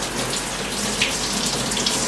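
Water runs steadily from a kitchen tap while potatoes are scoured and rinsed, a continuous bright hiss with faint splashes and no talking.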